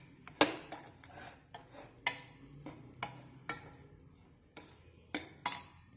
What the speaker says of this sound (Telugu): ఇలాచీ పౌడర్ వేసిన తర్వాత ఇలాగా కలుపుకోవాలి